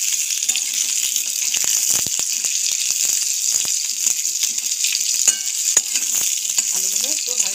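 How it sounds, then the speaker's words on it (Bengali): Cut potatoes frying in oil, a bright, steady hiss of hot fat with scattered crisp pops and occasional utensil taps, close and continuous with no talking. "কেটে রাখা আলু তেলের মধ্যে দিয়ে দিচ্ছি"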